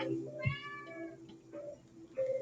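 A house cat lets out a clear, drawn-out meow over a quiet room hum, followed by a few softer vocal sounds.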